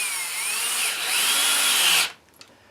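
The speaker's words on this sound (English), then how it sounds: "Now I'm holding on to the barrel of the" A power rivnut tool running to set a rivnut while mounting a tripod shoe, a steady close whirring motor with rising and falling pitch that cuts off abruptly, followed by a few faint clicks.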